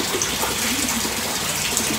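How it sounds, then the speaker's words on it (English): Water spilling from a white filter barrel back into a koi pond, a steady continuous splashing gush with no breaks, close and fairly loud throughout. "From the filter barrel, water fall into the pond."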